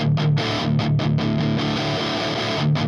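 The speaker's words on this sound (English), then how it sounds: "Those guitar tones sound great to me" A heavily distorted electric guitar through an amp dialed toward a particular metal tone plays loud, dense chugging chords in a choppy rhythm with short palm-muted gaps, up close and without voices.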